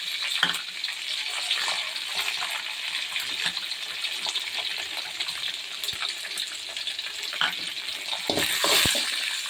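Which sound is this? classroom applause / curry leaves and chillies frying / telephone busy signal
curry leaves and chillies frying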